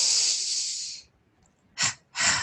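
Breathwork exercise of an energizing double inhale through the nose: a long, strong breathy rush of air, then a pause, then two short sharp sniffs close to the microphone, with no talking.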